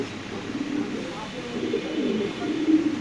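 A black beauty pigeon coos in low, soft repeated calls, with someone talking close by throughout.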